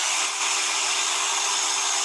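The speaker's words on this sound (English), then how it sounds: "if I take this drill all the way to the top" Power drill motor whining steadily at full speed, a continuous high-pitched hum with no pauses, close and fairly loud with no talking.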